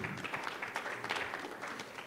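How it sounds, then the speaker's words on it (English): Steady applause from a crowd at a Konrad Adenauer Stiftung event in Kenya, a dense wash of many hands clapping at a fairly even level throughout. "Let's clap for Margaret as she"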